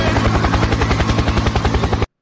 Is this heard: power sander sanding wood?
no